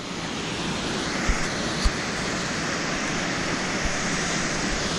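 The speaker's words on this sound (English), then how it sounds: "All the water you can hear is water that comes out, that leaks out of it and comes out of a valve at the bottom there." Water leaking from a rusted old valve at the bottom of the Old George Dam, a steady rushing, hissing flow heard continuously at moderate level, with a few faint knocks and thumps over it.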